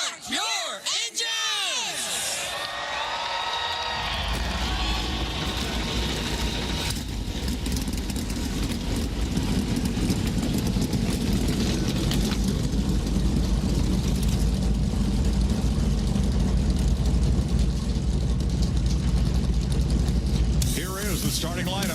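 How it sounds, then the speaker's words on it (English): NASCAR stock car engines fire up and roar at Bowman Gray Stadium, a sharp rising whine at the start giving way to a loud, sustained rumbling blend of many engines idling and revving together. "Drivers, start your engines!"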